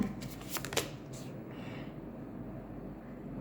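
A tarot deck is shuffled up close. A few quick riffling bursts in the first second give way to a soft, continuous card rustle under faint background noise.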